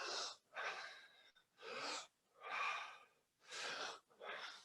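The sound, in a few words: big inhale, breathing in deeply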